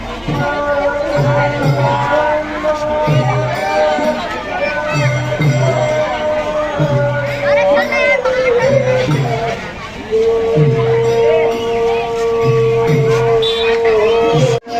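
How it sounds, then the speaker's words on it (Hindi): A large crowd packs the Rath Yatra festival in Chhuikhadan, a dense, steady hubbub of voices with music and a repeating drum rhythm running underneath throughout. "बहुत भीड़ है संगवारी हो"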